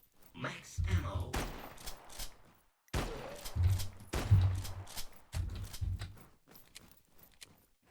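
Shotgun blasts in a video game sound in a few heavy bursts, some near-overlapping, with short gaps and a lingering tail between them, and a voice talks through part of the stretch.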